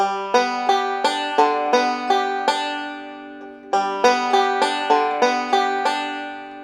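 A banjo picks a bright, even alternating four-finger roll of plucked notes, one short phrase, a brief pause, then the pattern again at a steady pace.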